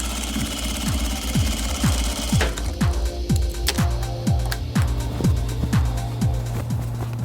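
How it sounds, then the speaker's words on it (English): A sewing machine stitches down the sides of a bag made from a vintage quilt, running in a steady rhythmic chug of needle strokes with a faint motor hum underneath, close and continuous. "After the handles are attached, I sew down the sides."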